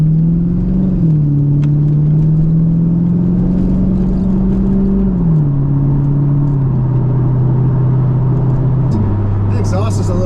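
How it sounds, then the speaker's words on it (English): A 1999 Corvette's exhaust drones steadily through a test drive after rear main seal, rack-and-pinion and alignment work, a low, slightly echoey note that shifts pitch as the engine changes speed, with a brief rise near the end. "The exhaust is a little echoey, like almost like a Flowmaster system."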